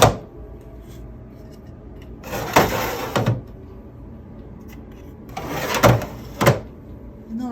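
Small antique metal drawers in an artist's print studio slide open and shut in two separate bursts of rubbing, scraping movement, each ending in a light knock, with quiet room tone between.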